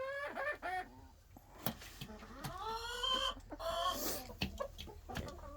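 Several roosters crow and cluck at night in a farm setting, with drawn-out harmonic crows overlapping with shorter clucks at moderate distance over a steady low background hum.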